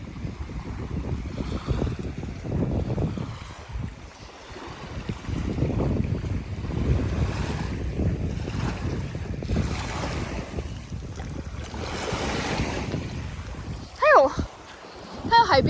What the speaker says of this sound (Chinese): 我记得是有海浪的声音。